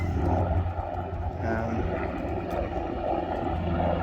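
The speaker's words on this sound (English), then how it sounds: "the helicopters are coming just over the house" Low, steady rotor and engine rumble of firefighting helicopters passing close overhead a house, loud and continuous throughout.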